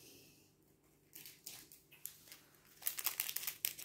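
A plastic bag crinkles and rustles in quiet, scattered bursts that grow denser and louder toward the end, heard close up with no talking.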